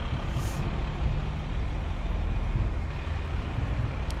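A fire truck with a rear bucket lift rolling by in a holiday parade, giving a steady low engine rumble with road noise and a brief hiss near the start.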